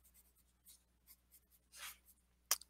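Colored pencil scratches across rough grayscale coloring paper in a series of short, close, dry strokes of varying length, ending with a sharp tap, with no voices.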